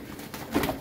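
A pigeon in a breeding cage gives a short, soft coo close by, set against low background noise.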